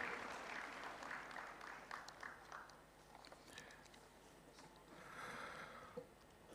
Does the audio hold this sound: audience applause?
yes